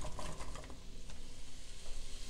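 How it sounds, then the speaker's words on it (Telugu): Onions dropped into two to three tablespoons of hot oil in a pan for a Punjabi-style rajma curry, giving a loud, dense sizzle with stirring scrapes, close and continuous. "పాన్ హీట్ అయిపోయింది, ఇప్పుడు ఆనియన్స్ యాడ్ చేస్తున్నాను."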